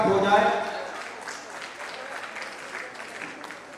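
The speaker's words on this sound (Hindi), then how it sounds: "जरा तालियों से स्वागत हो जाए।" Applause greets a guest at a school alumni meet, a burst of clapping from the audience that starts loud and then thins and fades over a few seconds. A voice can be heard near the start.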